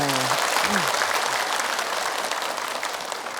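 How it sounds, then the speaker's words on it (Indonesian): Audience applause at an Indonesian religious gathering with a mostly female crowd, a steady wash of many hands clapping together over the whole stretch, with a brief voice at the start. "Tepuk tangan dulu dong semuanya."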